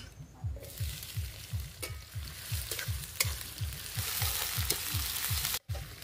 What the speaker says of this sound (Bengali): তেল গরম হয়ে গেছে, এবার আমি এতে দিয়ে দেবো পেঁয়াজ কুচি।